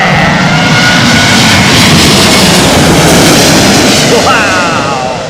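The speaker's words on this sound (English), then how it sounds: "I love that throttle up, man." A nearby aircraft engine spools up loudly as the throttle is advanced on a paddock arrival, a steady, roaring drone that swells and holds, then eases slightly near the end.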